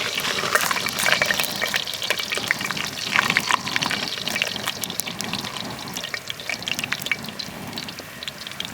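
Pancake-style batter sizzles and bubbles steadily in a pan over a camp stove during solo camping in Upper Dry Fork Canyon, Escalante, a constant close, dense frying hiss with small popping crackles throughout.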